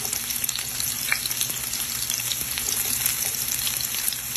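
Onions, peppers and ají dulce peppers fry in hot oil, giving a steady, close crackling sizzle with scattered pops throughout and no talking.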